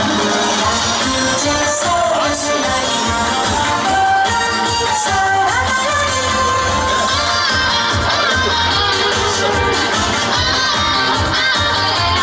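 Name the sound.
festival crowd applause and cheering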